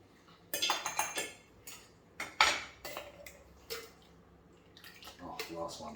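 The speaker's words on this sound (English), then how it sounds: "Half this video is just going to be you watching me swizzle a stick" A swizzle stick clinks and rattles against a glass while a banana daiquiri is stirred, making irregular bursts of close, bright chinking with short gaps. Someone talks intermittently underneath.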